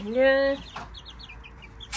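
Chickens in a garden in Germany give a loud nearby squawking call, then a run of softer clucks and chirps from young chicks.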